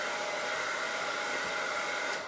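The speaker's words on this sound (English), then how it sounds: "I just put the dryer down on my project." A hair dryer runs steadily and close throughout, drying paint on a handmade decorative door tag craft project, a constant breathy whir with no talking.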